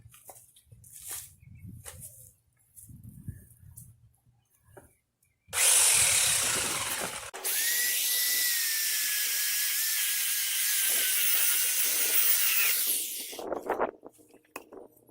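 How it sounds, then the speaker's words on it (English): A loud chainsaw roars into wooden posts in a long continuous burst, engine pitch wavering as it cuts, after quieter rustling and handling noises. "So, got out my handy dandy chainsaw again."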